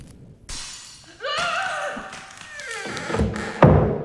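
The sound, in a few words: vase shattering in the Arkham Horror: Mother's Embrace video game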